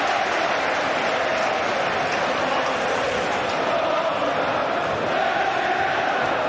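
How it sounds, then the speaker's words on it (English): Dense roar of a football stadium crowd applauding and cheering during a Premiership match between Liverpool and Chelsea at Liverpool's home ground, sustained and loud throughout with no pauses. "So you can hear the appreciation of the crowd."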